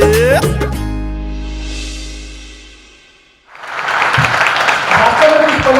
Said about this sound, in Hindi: शासन जी, एक बार दोबारा ताली बनती है।